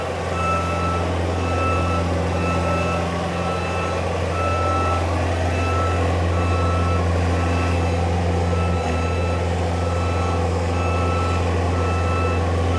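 A 2019 JLG 460SJ diesel 4x4 telescopic boom lift drives in reverse, its backup alarm beeping steadily and repeatedly over a constant low engine drone.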